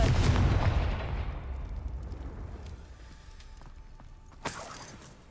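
A Confringo blasting spell goes off in the Hogwarts Legacy video game with a heavy, rumbling explosion that fades out over a couple of seconds, followed by a softer bright burst near the end.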